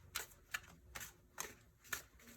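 Tarot cards being shuffled by hand, five quick papery riffles spaced about half a second apart, close and fairly quiet with no talking.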